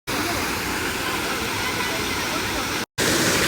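Water spills over Unnichai dam in Batticaloa, a loud, constant rushing roar of falling water close by, broken by one brief cut before it resumes.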